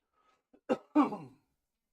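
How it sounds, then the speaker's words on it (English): A short throat clearing followed by a single close, husky cough, then silence. "I'm trying not to cough and sniffle all up in the microphone"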